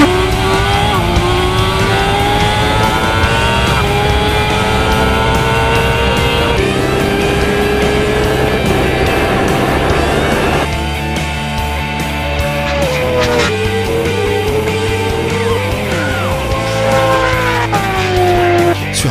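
Loud, screaming superbike engines, a BMW S1000RR and a Kawasaki H2R, race from a standing start over 1000 metres, pitch climbing and dropping through rapid gear shifts, close and continuous with no talking.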